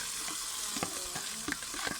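Food sizzling and frying in a cast-iron cauldron as it is stirred, a steady loud hiss with scraping stir strokes repeating every few tenths of a second.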